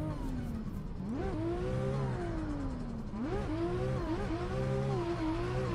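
A 2JZ-swapped Lamborghini drift car in a racing game revs hard and continuously, its engine pitch sweeping up and down through several throttle surges, loud and close, with a faint tire hiss underneath.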